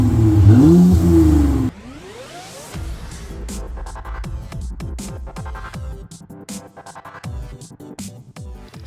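A 2018 Mercedes E400 wagon engine with an aftermarket electric exhaust cutout valve opened rises in a loud rev, then drops and settles into a series of sharp blips and crackling revs, close and without talk.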